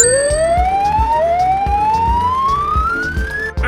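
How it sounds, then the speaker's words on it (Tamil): An ambulance siren wails continuously with rising, sweeping tones, loud and close, with steady road rumble underneath and no talk. "This is ambulance."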